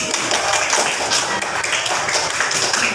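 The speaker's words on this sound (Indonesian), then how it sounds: "kasih tepuk tangan untuk temannya yang maju" Classroom applause for classmates stepping forward, a dense, steady patter of many small hands clapping at once, close and continuous.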